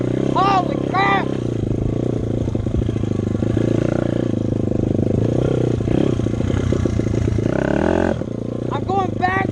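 A cold dirt bike engine, on a track and close to a GoPro, sputters and nearly stalls at idle, then revs up and falls away in rising and falling swells, with someone talking over it throughout.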